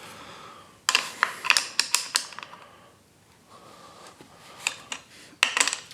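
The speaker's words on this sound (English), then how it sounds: "you'll just tighten that lock nut on there" A wrench tightens the lock nut on a Navi mirror fitted to a 2023 Honda Grom, giving close, sharp metallic clicks in quick bursts separated by short pauses.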